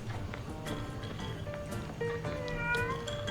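A cat meows softly in the video game Hello Neighbor 2, with a few thin, drawn-out mews and a short rising call near the end over a low background rumble.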